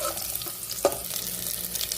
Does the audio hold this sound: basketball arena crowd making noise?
no